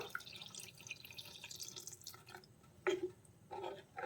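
Water poured from a mixer jar into a Kerala fish curry gravy trickles and splashes faintly, with a couple of brief louder pours near the end.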